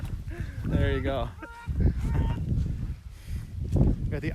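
A large bird, probably a goose, gives several loud nasal honks outdoors in Montenegro, close by, with people talking over and between the calls.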